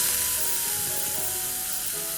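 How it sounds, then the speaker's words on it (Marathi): Mustard seeds, cumin and boiled moth beans crackle and sizzle in hot oil in a kadhai, a steady dense hiss filling the whole short stretch with no voices. "त्यासाठी एका कढईत थोडं तेल घेतलेलं आहे. त्यामध्ये मोहरी जिरं टाकून घेऊ आणि जी उकळून काढलेली मटकी आहे ती यामध्ये टाकूया."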